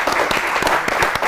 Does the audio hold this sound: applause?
yes